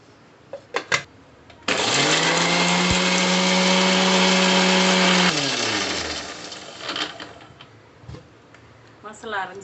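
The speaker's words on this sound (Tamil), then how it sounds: "இப்போ வாழைக்காய் வறுக்கிறதுக்கு தேவையான மசாலாவை மிக்சியில் போட்டு எடுத்துக்கலாம்" An electric mixer grinder blends a masala of tomato, onion, ginger, garlic and coriander leaves. It runs loud and whirring for about four seconds, then winds down. Faint clatter and voices come before and after.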